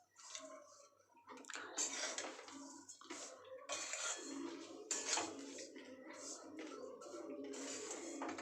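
Vermicelli is stirred and fried in a pan with milk powder and sugar over a low gas flame, giving close scraping and sizzling bursts with clinks of a utensil, under a faint steady hum.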